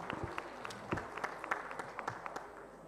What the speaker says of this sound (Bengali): সবাই জোরে হাততালি দিন প্লিজ।